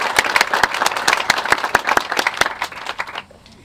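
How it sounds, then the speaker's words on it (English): Applause from a museum exhibit audience, individual claps clearly spaced and fairly close, thinning out and stopping abruptly just before the end. "let's give him a round of applause"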